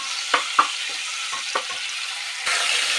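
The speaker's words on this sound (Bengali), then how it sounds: "এখানে পেঁয়াজটা লাল হয়ে গিয়েছে এর মধ্যে আমি মাংসটা ঢেলে দেবো" Meat tipped into a pan of frying browned onions and carrots, giving a continuous hiss of hot oil with a few soft knocks and a louder surge of sizzling near the end.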